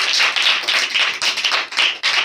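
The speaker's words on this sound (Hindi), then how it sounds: "जोरदार तालियां बजाएंगे अलीशा के लिए" Children in a Bible class clap together for a girl named Alisha, a close, steady rhythmic clapping in repeated bright bursts with short dips between them.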